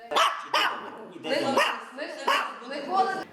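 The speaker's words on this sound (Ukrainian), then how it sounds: "Собака Лана стоїть на сторожі порядку у будинку естетики та дозвілля." A dog guarding a community arts and theatre house barks repeatedly in sharp, loud bursts, with several evenly spaced barks filling the moment.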